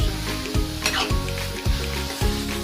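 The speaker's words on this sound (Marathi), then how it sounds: "जसं मी हे गाजर तुपामध्ये भाजत जाते तसा याचा कलर पण ऑरेंज होतोय." Grated carrots frying in ghee for carrot halwa sizzle steadily up close, with a spoon stirring the pan in four regular strokes about half a second apart.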